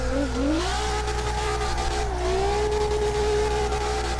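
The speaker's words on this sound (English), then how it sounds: "Listen to that beautiful R35 roar, that engine" A Nissan GT-R R35 in CarX Drift Racing roars at steady high revs during a drift, a loud, continuous engine drone that climbs early and then holds, with faint tire noise underneath.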